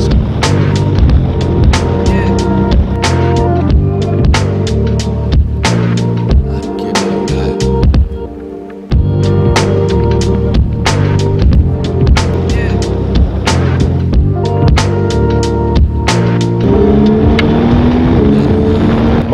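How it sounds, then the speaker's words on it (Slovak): Yamaha Tracer 9 GT+ motorcycle riding, a loud, steady engine drone with a strong low rumble under wind buffeting and frequent sharp knocks and clicks, a brief dip partway through. "Prosím, zoznamte sa, toto je Yamaha Tracer 9 v najvyššej verzii GT+."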